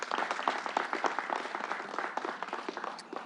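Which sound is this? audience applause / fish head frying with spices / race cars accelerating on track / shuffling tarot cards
audience applause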